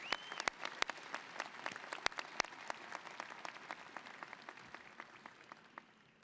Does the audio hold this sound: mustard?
no